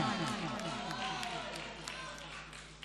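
Audience at a mushaira in Phoolpur clapping in a steady, dense wash of applause that runs throughout, loud and fairly close, with crowd murmur mixed in.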